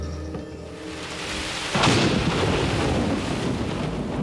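Thunder from a tropical storm rolls in after a quiet start, swelling into a loud, sustained rumble with the hiss of heavy rain beneath it, and no voices.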